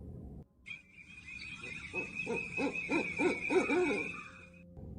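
An owl, one of several perched on an electric pole, gives a series of rapid rhythmic hoots building in loudness, over a steady high whine in the background.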